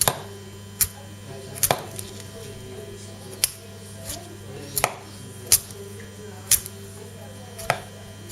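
A survival knife chops through the bottom of a butternut squash on a board: about eight sharp, separate thunks spaced unevenly, close and crisp over a low steady background hum.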